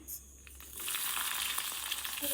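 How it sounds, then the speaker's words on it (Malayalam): Shallots and mustard seeds fry in coconut oil in a clay pot, a soft sizzle that swells into a steady, faint crackle. "ഇത്ര കടുകിട്ട് വെക്കാം ചെറിയ ചെറിയുള്ളി ഇട്ട് കൊടുക്കാം"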